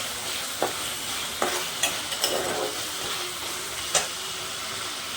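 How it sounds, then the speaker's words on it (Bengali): Spice masala frying in a pan for a green papaya and mung dal dish, a steady sizzle broken by several sharp scrapes and taps of a spoon stirring the paste. "ভালোভাবে কষতে থাক। মশলাটা খুব সুন্দর কষানো হয়ে গিয়েছে।"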